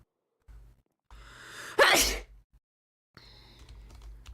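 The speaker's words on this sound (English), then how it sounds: "You've been sneezed at aggressively." One loud, explosive sneeze close to the mic, a short intake building into a sharp burst, set among quiet stretches and faint keyboard tapping.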